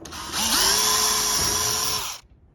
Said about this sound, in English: all I'm doing is pre-drilling these